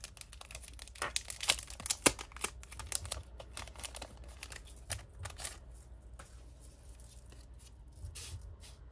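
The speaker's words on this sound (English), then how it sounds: "let's just open the reflection card" Paper crinkles and rustles as a reflection card from a cloth and paper stationery subscription box is handled and opened, with sharp close crackles and taps that settle into quieter shuffling.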